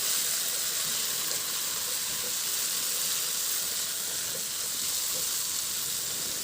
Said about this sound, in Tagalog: Ihalo lang hanggang sa mag-reduce yung toyo, oyster sauce at calamansi juice.